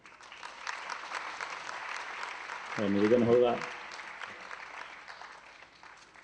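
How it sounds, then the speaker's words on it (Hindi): Audience at the Geetanjali Mahotsav cultural event in Mumbai applauds steadily to welcome guests, a moderate spread of clapping that runs throughout while someone speaks briefly over it midway. "एक बार अपने अतिथियों के अभिनंदन में जोरदार ताली बजाइए"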